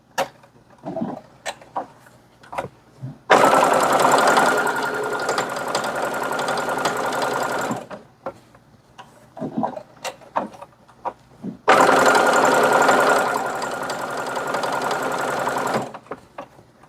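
Manual home sewing machine stitching a thick fabric tea coaster, running in two steady sustained bursts of about four to five seconds each, separated by quiet gaps filled with small clicks and handling sounds.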